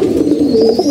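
A pair of pigeons coo loudly and close by, a short run of low throaty burbling notes with no talk over them.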